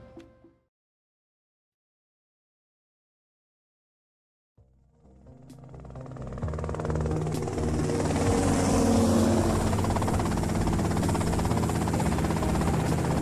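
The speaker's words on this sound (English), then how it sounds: "that's them in the chopper" A helicopter in a Grand Theft Auto: Vice City cutscene rises out of near silence at about four and a half seconds, then holds as a loud, steady rotor and engine roar to the end, with no talk over it.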